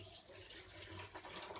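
Water poured to top up the tray of a tile saw, a soft continuous splashing trickle, quiet and close, lasting under two seconds without any talk.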